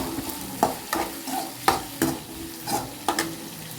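Curry leaves sizzle in a frying pan for egg drop curry while a spatula stirs them, giving steady frying crackle broken by about eight sharp, rhythmic scrapes, close up with no voices.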